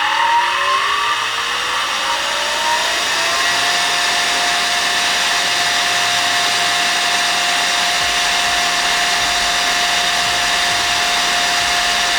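An electric motor fed by a frequency inverter starts up, its whine gliding upward over the first few seconds and then settling into a steady, loud tone over a constant hum.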